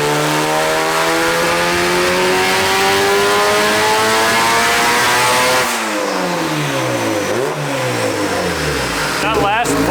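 A fully built LS-swapped VTEC Honda Civic running 11 psi of boost makes a full-throttle pull toward 8,000 rpm, a loud continuous rising engine howl that drops sharply around the shift, then climbs again.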